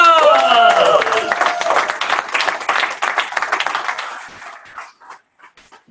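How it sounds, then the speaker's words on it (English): A small audience applauds, the clapping loud and dense at first under a few voices and cheers, then thinning out to scattered claps and fading near the end. "So let's give Tony a huge round of applause."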